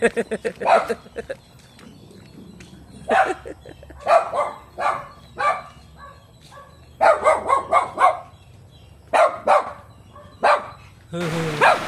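A dog barking at home in repeated bursts, close and loud, with several quick barks clustered together and short pauses between groups, a brief higher sound closing the stretch.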